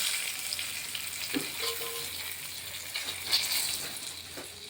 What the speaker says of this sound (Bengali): ভালোভাবে লঙ্কাটা একটু ভেজে নিচ্ছি। আর এখানে 2-3টে তেজপাতাও দিয়ে দিলাম।